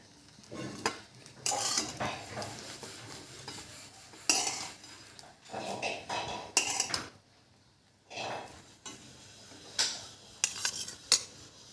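Bun-pav onion chivda of fried bread pieces being lifted out of a pan, with repeated bursts of a spoon scraping and clattering against the metal, separated by short pauses and one quiet gap.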